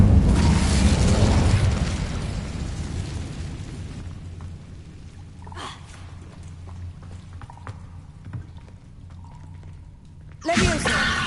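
An Incendio fire spell in Hogwarts Legacy roars loudly with a whooshing burst at the start and fades over several seconds. Quieter scattered crackles follow, then a second sharp flare near the end.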